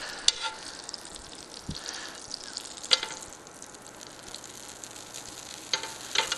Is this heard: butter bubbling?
yes